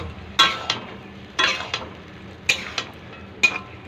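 Spoon scraping and clinking against a cooking pan while tomato, potato and spices are stirred, several sharp scrapes spaced about a second apart over a soft sizzle, close and clear with no talking.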